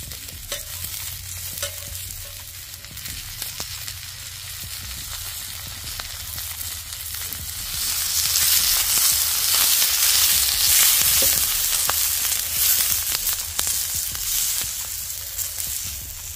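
Garlic and onion chunks frying over a campfire outdoors in winter, a steady close sizzle with soft stirring scrapes that grows louder and fuller about halfway through, no voices.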